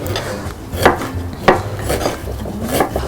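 Vegetables, greens and onion tossed together in a bowl, with repeated scraping and clattering strokes of utensils against the bowl, close and fairly loud, under a steady rustle and no speech.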